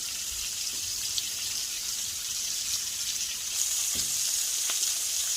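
Thick blackened Cajun-seasoned shrimp fry in a pan over medium-high heat, a steady bright sizzle running throughout with a few faint clicks and a slight swell toward the end, no talking.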